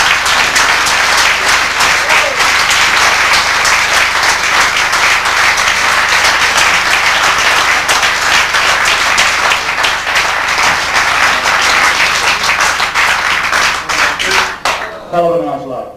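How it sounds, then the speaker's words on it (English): Club crowd at a 1990 village club darts final gives the two finalists a long, loud, sustained round of applause, clapping dense and even throughout before breaking off abruptly at the end, with faint voices underneath. "Will you give a warm round of applause to David Taberner and Gary Wallis?"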